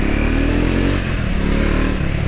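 A Triumph Scrambler 400X motorcycle rides along a city lane, its engine droning loudly and steadily close to the microphone for a couple of seconds, with no talk over it.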